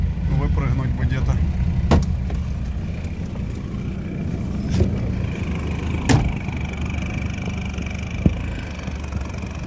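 A modified UAZ off-road vehicle drives past outdoors, its engine a steady low rumble with a few sharp knocks and clunks. A voice speaks briefly at the start.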